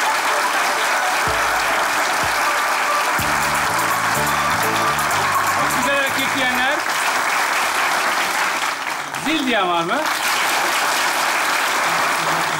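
A studio audience applauds at the close of a sketch on a Turkish comedy show, a steady dense clapping wash running under talk and bursts of music throughout.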